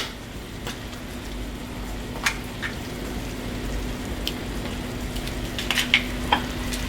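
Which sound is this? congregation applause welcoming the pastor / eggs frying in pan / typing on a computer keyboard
eggs frying in pan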